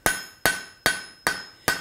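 A hammer forging a high speed steel tipped punch strikes five sharp, ringing, evenly spaced blows, each decaying quickly, loud and close with no talking.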